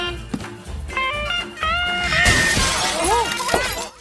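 Glass shatters in the animated film Lilo & Stitch, a bright crashing burst that rings out over loud music with voices mixed in.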